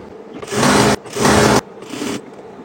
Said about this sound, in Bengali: এখন আমরা জামার সাইড সেলাই করব